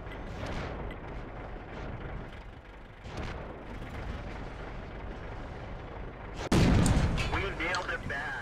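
Booming artillery fire and explosions from the tank game World of Tanks, a dense rumbling wash with a sudden loud blast near the end, while a person talks over it.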